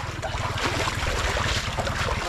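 Boat motor running on water at night, a steady low chugging engine pulse under broadband wind and water noise, fairly close and continuous with no talking.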